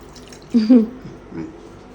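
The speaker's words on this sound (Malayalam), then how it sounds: "ഇച്ചിരി വെള്ളം കൂടെ വേണമെങ്കിൽ ഒഴിച്ചേക്കാം" Water poured into a hot pan for a curry, a brief splash and gurgle lasting under a second, with a softer trickle following, close by in a home kitchen.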